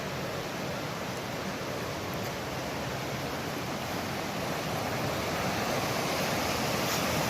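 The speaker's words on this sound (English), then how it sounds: "Nice little rapids." River rapids rush beneath a bridge on a forest hike, a steady loud broadband roar of churning water that continues without a break and with no voices.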